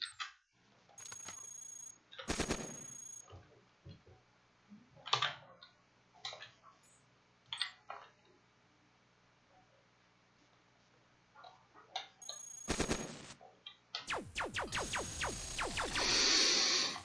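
Sparse, quiet clicks and beeps from the Cogmind game interface, including weapon fire, with a burst of rapid ticking shots from a beam rifle near the end, all without any talking.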